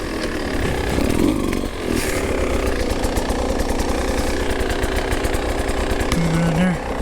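A Beta 200RR two-stroke dirt bike engine revs steadily in second gear while riding through rough terrain, a loud buzzing drone with rising and falling throttle pulses throughout.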